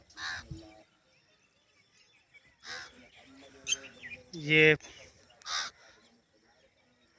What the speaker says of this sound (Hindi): परिंदे भी चहचहा रहे हैं।